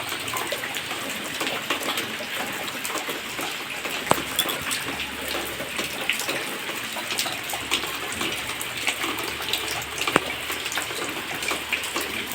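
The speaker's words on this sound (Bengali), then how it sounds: "আমাদের এখানে বৃষ্টি শুরু হয়েছে ভালো" Steady rain pours down outdoors, hissing continuously with scattered splashes as water collects into pools on the ground.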